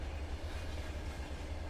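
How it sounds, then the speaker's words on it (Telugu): A special train bound for Rameswaram from Vizag passes at night, a low, steady rumble of rolling wagons that stays faint and distant throughout the short stretch. "గురువారం రాత్రి 2 గంటలకి స్పెషల్ ట్రైన్ వైజాగ్ రామేశ్వరం వెళ్తుంది."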